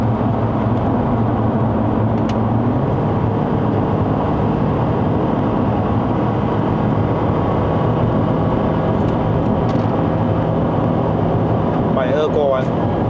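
A 2014 Proton Perdana 2.4P sedan accelerates steadily with an even, continuous engine and road drone, the tone rising and easing as it upshifts, while a driver talks over it.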